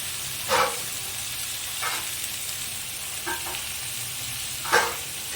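Garlic for a Bangladeshi bhola fish curry hits hot oil in a pan after nigella seeds and onion, giving a steady soft sizzle with a few brief stirring scrapes spaced out across the clip, moderately close and without voices.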